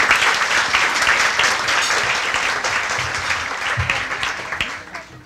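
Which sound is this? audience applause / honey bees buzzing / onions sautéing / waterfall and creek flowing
audience applause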